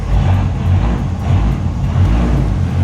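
A Dodge Viper engine runs with a newly fitted GCC triple-disc clutch kit as the clutch engages in gear. A steady, deep, loud rumble holds throughout with slight pulsing and no voices.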